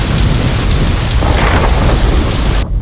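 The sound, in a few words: thunder and heavy rain in a movie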